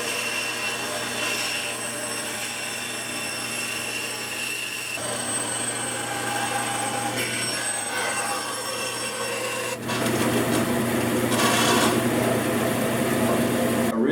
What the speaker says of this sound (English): And I'm going to cut out this notch.